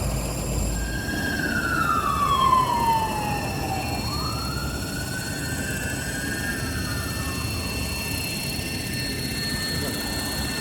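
A homemade helicopter's rotors whir in a loud, continuous roar during a test flight, with the pitch sweeping down, then rising and levelling off as the speed shifts.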